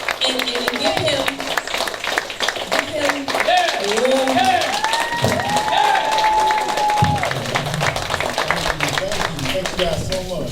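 A crowd at a live conference event keeps up sustained clapping, heard under a voice talking loudly over it and a sung or held tone in the middle.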